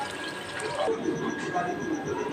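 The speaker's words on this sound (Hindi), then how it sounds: "मैंने इसमें पतीले में चावलों के लिए पानी लिया है" Water poured from a tap into a cooking pot to boil rice for biryani, a steady splashing fill with faint background sounds, fairly close.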